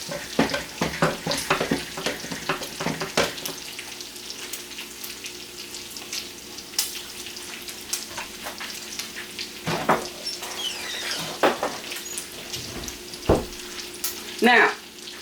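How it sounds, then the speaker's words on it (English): Meat for Swiss steak fries in hot oil in a pan, a loud, close, continuous sizzle and crackle with bursts of spitting and a few stirring clunks, no talking. "we're gonna put some oil in here. We're gonna get ready to fry these meats up."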